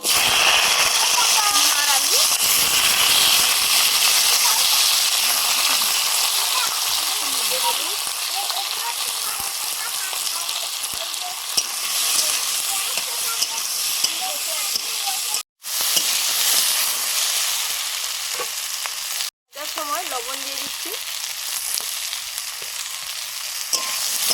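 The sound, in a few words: vegetables frying in spice tempering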